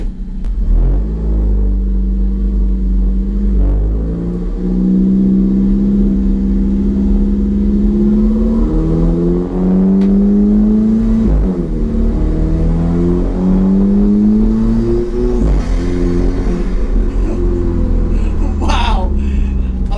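An Alfa Romeo 4C with a Eurocompulsion cold air intake is driven normally. Its engine drones and rises in pitch through the gears with a loud, close intake rumble, and the revs drop between shifts.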